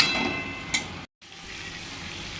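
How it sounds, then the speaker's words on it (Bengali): Mutton and potatoes sautéing in a pan give a steady, soft frying hiss with a brief scrape near the middle of the clip. The hiss cuts out for a moment, then the sizzle comes back, close and moderately quiet, with no talking. "আলুগুলো দিয়েও এবারে একটু কষিয়ে নিচ্ছি"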